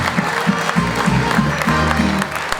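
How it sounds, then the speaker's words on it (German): Audience applause at a Bavarian Gstanzl folk-singing event for organizer Tom Swing, a dense steady clapping that fills the whole moment with a low musical hum beneath it. "jetzt geben wir meinem Freund den Tom Swing für das, was er wieder organisiert hat, einen riesen Applaus"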